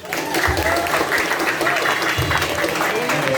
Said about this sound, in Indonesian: Tepuk tangan untuk Ustaz